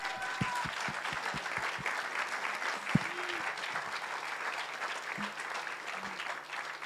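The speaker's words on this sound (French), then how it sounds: "Audrey Hepburn, applaudissements s'il vous plaît." A festival audience bursts into steady applause, many hands clapping together in a sustained, fairly loud roar.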